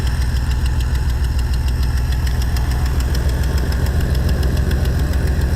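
A 1991 Nissan Pathfinder engine idles in neutral with a rough, steady chugging knock, each pulse evenly spaced, heard up close and continuous with no talking.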